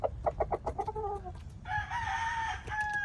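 A Cardinal Red gamefowl stag crows once, loud and close, after a run of quick rhythmic clucks and calls from the fowl.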